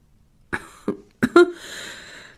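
A patient with breathing difficulty and painful cough gives a series of sharp coughs, a couple of separate hacks followed by a quick double cough, close up, then trailing breathy noise.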